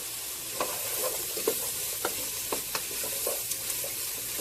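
Onions and garlic sauté in a pot for vegan tortilla soup, giving a steady close sizzle broken by sharp spoon scrapes and stirring knocks about every half second, with no voices.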